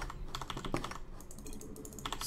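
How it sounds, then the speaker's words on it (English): Rapid, irregular keystrokes tap on a computer keyboard in quick bursts with brief pauses, fairly quiet and close, with no speech over them. "I'm typing to all."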